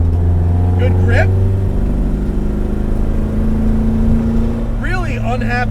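Modified 1966 Alfa Romeo Giulia GT engine droning steadily at low revs throughout, then climbing in pitch as it is wound out near the end, with brief bits of talk over it.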